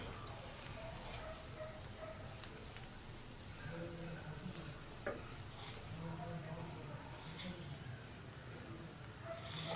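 A spatula turns cabbage thoran mixed with powdered rice flakes in a pan, giving a soft, continuous scraping stir under light sizzling, fairly quiet and even throughout, with faint speech-like sounds nearby.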